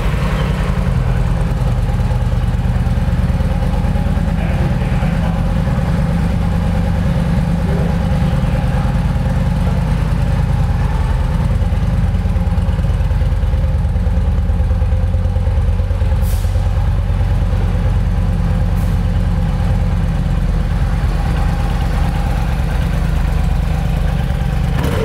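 A 2009 Yamaha XVS950 V-Star 950 motorcycle with low mileage idles steadily nearby, giving a loud, continuous low rumble with a slight lope that stays even for the full length of the recording.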